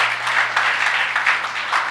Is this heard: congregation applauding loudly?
yes